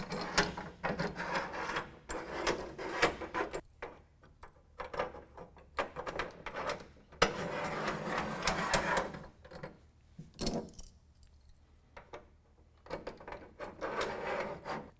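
Clamps for a hard folding tonneau cover slide along the bed rail of a 2014 Toyota Tundra, making soft scraping and clicking sounds in uneven bursts with quiet gaps.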